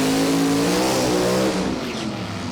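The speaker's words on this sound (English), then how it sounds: "We've got a burnout coming through." Funny car drag racer doing a burnout at Sydney Dragway, a loud sustained engine roar with rising revs that stays dense and close throughout before easing slightly near the end.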